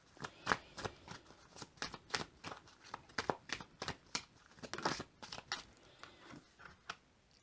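Oracle cards are shuffled and handled close up in a quiet room, giving repeated soft riffling and slapping sounds in irregular bursts at low volume, with no talking.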